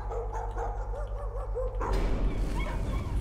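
A dog whimpering and yipping in the horror game Layers of Fear, a short run of high, wavering cries over a steady low hum, then giving way to a denser, noisier texture.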